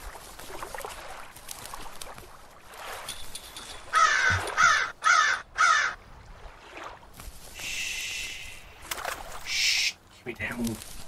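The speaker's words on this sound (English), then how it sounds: "Birds." Crows caw in the video game Unknown Taps, with loud, harsh, close caws in a quick burst and then more calls over a low, steady game ambience.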